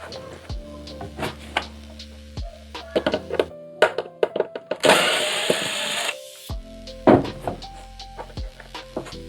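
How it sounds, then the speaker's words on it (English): A screw being backed out of a car headlight bezel for an Element headlight build, heard as sharp clicks and scraping tool noises with a dense burst of rasping in the middle, close and fairly loud, no talking. "We're gonna unscrew this and slide this whole bezel out."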